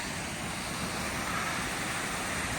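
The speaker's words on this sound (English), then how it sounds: "I love that sound of rushing water." Clean natural stream rushing at South Mountain State Park, a steady, loud broadband wash of flowing water that fills the whole moment without pause and with no voices.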